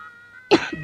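One short, sharp cough bursts out close and clear against a quiet room, followed by a faint throaty tail.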